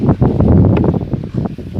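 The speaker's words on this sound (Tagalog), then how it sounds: "kasi sobrang lakas ng hangin dito" Strong wind buffets the microphone in loud, uneven gusts beside okra plants, a rough low rumble that surges and dips over a couple of seconds.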